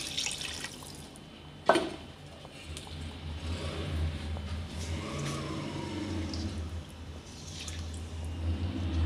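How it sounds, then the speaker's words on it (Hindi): About one to one and a half glasses of water are poured into a pan of fried egg koftas, giving a soft, steady wash of liquid after a brief clink, with low background hum. "अब हम इसमें डाल देंगे तकरीबन एक से डेढ़ गिलास पानी"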